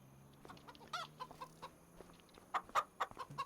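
Chickens in the Farming Simulator 25 video game give short, scattered clucks, several quick bursts at irregular intervals, fairly faint against a quiet background.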